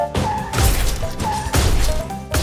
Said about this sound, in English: Now for a train clash.